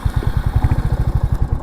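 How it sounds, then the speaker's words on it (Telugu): Royal Enfield Hunter motorcycle engine just after self-start, a loud, steady low thumping idle with an even pulsing beat throughout, close by and alone. "ఆ సెల్ఫ్ స్టార్ట్ చేసినప్పుడు ఆ సౌండ్ వస్తుంది సార్,"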